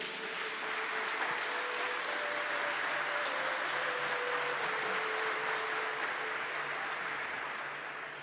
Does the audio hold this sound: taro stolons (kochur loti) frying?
no